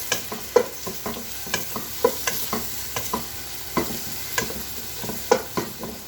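Food frying in a pan with garlic, stirred at a regular pace: repeated sharp scrapes and taps of a utensil roughly every half second over a constant low sizzle, close and with no talk.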